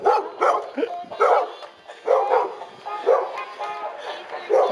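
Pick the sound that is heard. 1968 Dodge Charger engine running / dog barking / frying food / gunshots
dog barking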